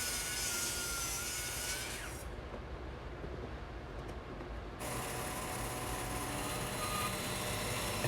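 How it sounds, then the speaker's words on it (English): A bandsaw roughs out leftover scrap wood stock for leg braces, a steady machine hum with a dip in the bright whine partway through as the blade bites into the wood. "I'm just roughing it out here on my bandsaw."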